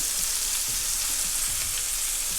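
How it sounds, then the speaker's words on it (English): Meatballs frying in a pan, a dense, constant crackling sizzle at close range, with soft low thumps from the pan beneath it. "fry them, make sure that the outside has gotten a little bit of color"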